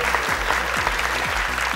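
Studio audience applause on a Persian-language Family Feud game show, dense and steady clapping throughout a short burst, with a low rhythmic music bed pulsing beneath it.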